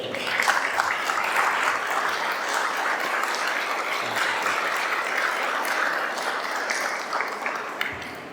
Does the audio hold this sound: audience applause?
yes